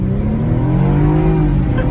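A 2016 BMW 228i accelerates hard in sport mode, its engine note climbing steadily and loudly from inside the cabin, with no talk over it.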